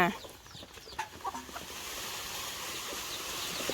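Chickens cluck softly in a rural outdoor setting where they are being called and fed, a few scattered clucks over steady background noise.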